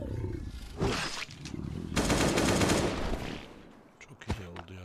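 Gunfire from a weapon in the video game Last Day on Earth: Survival, bursts of rapid automatic shots and roaring blasts in game audio, loud and close, with a voice talking briefly near the end.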